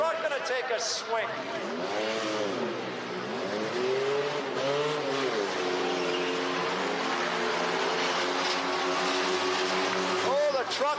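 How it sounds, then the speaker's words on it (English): A rear-wheel drive truck revs and crashes at a demolition derby, with engines rising and falling in repeated revving swells, tire noise and crowd-like background din, loud and continuous under an announcer's voice. "The rear-wheel drive truck gonna take a swing."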